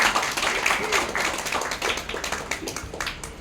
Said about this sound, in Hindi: ताली बजाकर परमेश्वर को महिमा दें